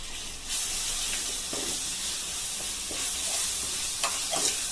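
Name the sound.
stirring spices and cumin powder in pan for vindaloo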